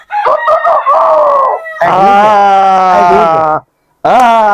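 A person imitates a rooster crowing: two loud, strained, drawn-out calls separated by a short gap, then a third call starting abruptly at the end, with nothing else beneath the voice.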